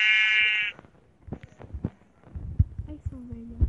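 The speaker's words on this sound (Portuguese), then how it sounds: "Vou matar essa ovelha pra que nunca mais veja ela." A sheep bleats in Minecraft Pocket Edition during a survival game, one harmonic-rich bleat at the start, followed by hits and game noises.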